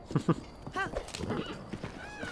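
A horse in Zelda: Breath of the Wild arrives with a couple of heavy hoof thuds followed by a wavering neigh and snorting, close and clear against quiet game background.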